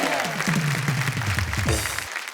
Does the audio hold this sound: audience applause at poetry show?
yes